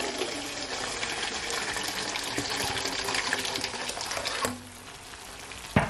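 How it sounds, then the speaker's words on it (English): Hot water pours into a bowl of seasoning for Jamaican curry turkey neck. A steady, close splashing stream runs for about four and a half seconds, then drops to quiet with a small clink at the end. "I'm gonna add at least 5 cups of hot water to it"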